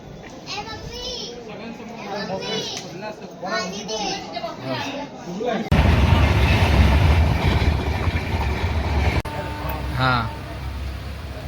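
People chatter and children's voices are heard, then a loud rumbling train rushes past, its broad roar filling the scene.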